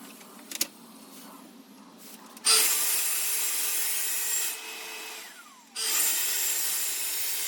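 A power saw cuts through a wood panel piece in a carpentry workshop, a loud sustained whine running for about two seconds, dipping briefly, then resuming, after a few faint knocks and handling sounds at the start.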